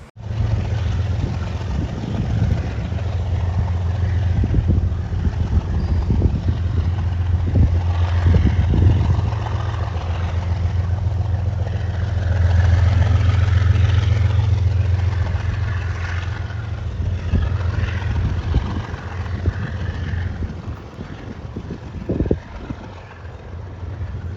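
A train engine chugs away in a low, continuous rumble that swells and eases over about twenty seconds, heard up close and alone.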